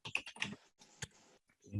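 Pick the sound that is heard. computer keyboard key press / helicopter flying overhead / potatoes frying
computer keyboard key press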